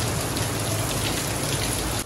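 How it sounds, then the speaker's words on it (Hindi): A heavy downpour makes a dense, roaring wash of raindrops hitting surfaces, steady and close for a couple of seconds before dropping off abruptly. "ये देखें ओ माय गॉड, बहुत तेज़ बारिश हो रही है।"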